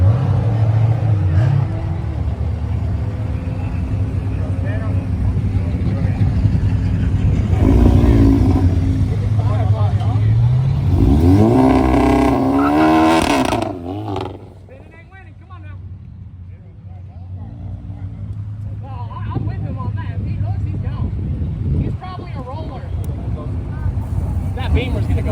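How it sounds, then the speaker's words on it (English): A VW GLI and a BMW M5 accelerate hard in a race, with a loud, sustained engine roar and rising revs that fade around the midpoint before building again, and people talk over it throughout. "We're gonna be racing the M5."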